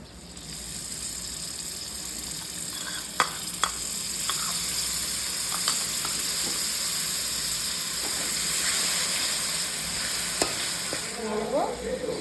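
Sour curd hitting hot oil and fried spices (chilli and coriander powder) for a prawn curry, giving a loud continuous sizzle with occasional spoon clicks and scrapes and no talking.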